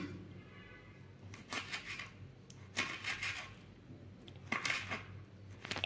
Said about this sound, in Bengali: এই কাঁচা লঙ্কাগুলোকে বেশ ভালোভাবে আমি এইভাবে কুচিয়ে নিচ্ছি